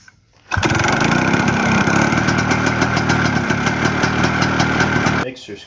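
A Ski-Doo 335 snowmobile engine running just after a carburetor rebuild: it catches abruptly and holds a loud, steady buzzing drone with a slight rough flutter for about five seconds, then cuts off sharply.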